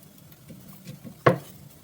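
Bitter gourd pieces are tossed in an air fryer basket, giving a soft rustle and then one sharp rattling clatter of the metal basket, close and brief.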